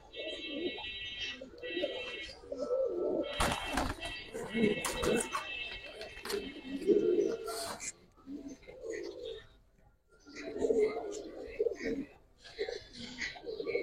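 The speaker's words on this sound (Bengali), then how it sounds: "সাধারণ একটা কবুতর।" Cobra silver pigeons coo softly in short, repeated murmurs close by, mostly under steady conversation between several people, with a few sharp clatters partway through.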